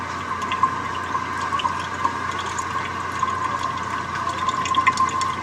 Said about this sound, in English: there's some water running through the tubes